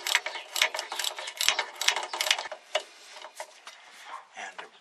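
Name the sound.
small tick of a wheel cylinder part breaking loose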